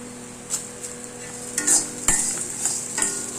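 Garlic podi ingredients with rock salt dry-roasting in a hot pan, stirred with a utensil: a soft background sizzle broken by repeated scraping and clinking strokes against the pan, close and irregular.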